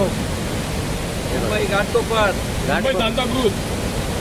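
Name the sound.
Dhutpapeshwar waterfall at Rajapur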